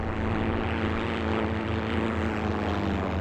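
A propeller plane drones steadily in the World War II shooter Heroes & Generals, a loud, even engine hum with a pulsing low buzz and no talking.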